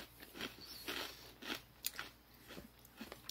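Close, loud crunching and chewing of airy vegan cracklings with Korean barbecue flavouring, repeated bites and chews in an irregular rhythm with no talking.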